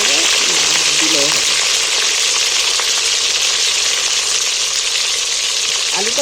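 Peeled, cut potato pieces fry in hot oil with a loud, dense, continuous sizzle close by, and a voice is faintly heard at the start and end.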